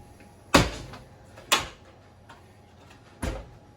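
A plastic panel tool prying at the plastic panel of a Samsung ice maker, three sharp plastic clicks or snaps spaced about a second or more apart, close and isolated against quiet room background.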